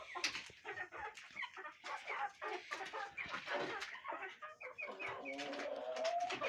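Several chickens waiting for feed cluck and chatter continuously, a busy overlapping flock sound with sharp calls throughout, close by.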